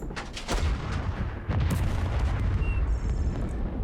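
Gunfire and heavy booms directed at infantry in the tactical wargame Second Front, a few loud bursts in the first second and another cluster midway, over a rumbling, crackling battle bed.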